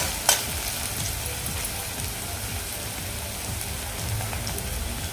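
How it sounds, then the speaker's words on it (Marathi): Onion frying on a high flame, stirred constantly: a dense, loud sizzle like heavy rain runs without pause, with soft crackles and a sharp utensil scrape near the start. "कांदा पण एकसारखा हलवत राहायचा आहे"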